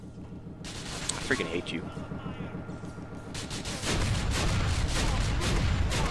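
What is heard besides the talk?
gunfire from enemies shooting in the video game GTA IV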